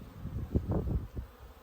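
Bees at the entrance of a beginner's backyard hive in Colorado, a brief low buzzing hum close by that swells and fades as individual insects pass.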